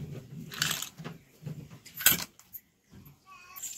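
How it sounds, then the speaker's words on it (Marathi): Ice cubes dropped into a mixer jar holding chikoo slices and sugar for a milkshake: several close, hard clinks and knocks in quick succession, with a sharp clatter near the middle and faint rattling afterward. "आता हे बर्फाचे तुकडे घालून घेते"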